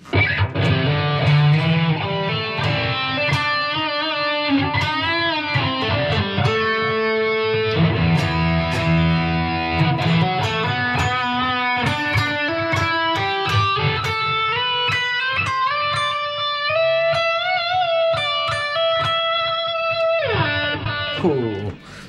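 Distorted electric guitar plays continuous melodic lines and sustained bends, loud and steady throughout with no talking.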